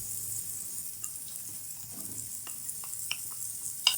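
Boiled peas and mashed potatoes fry gently in a pan over a medium-low flame for samosa filling, giving a soft, quiet sizzle with occasional light scrapes and stirring taps.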